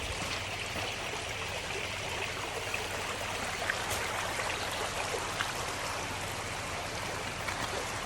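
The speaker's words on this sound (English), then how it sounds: "Pretty little creek, and it's running decent from the rain over the weekend" Steady rushing and trickling of a small Ozarks creek running high after weekend rain, constant and moderately close, with no voices or other sounds.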